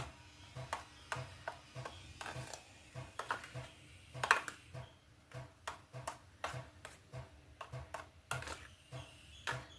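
Egg appam batter, with salt, onion and other ingredients already added, being mixed in a bowl; steady, repeated clicking and tapping strokes of a utensil against the bowl, close and fairly quiet, without talk.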